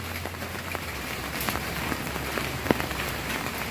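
Steady rain falls on a surface, a dense continuous patter with occasional louder drops, no voices.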